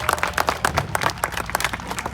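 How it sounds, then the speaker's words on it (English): Audience at a fair alligator show claps and cheers, a dense steady round of applause from a crowd close by, running throughout with no voices on top. "let's give this alligator another big round of applause"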